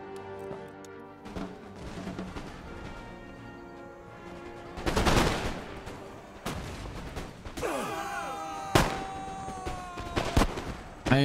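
Musket volleys firing in Empire: Total War during a Great Northern War battle with Sweden: several sharp, loud cracks spaced a second or two apart, some ringing out over a background of music and ambience.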